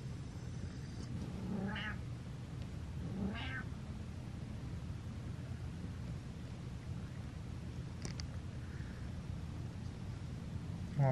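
A cat meows twice, short and fairly soft, over a constant low background hum. Nobody speaks.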